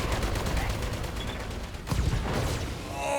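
Mech weapons fire in Battletech, a rapid chattering string of shots with a heavier burst of impacts near the end, loud and close over a dense battle background.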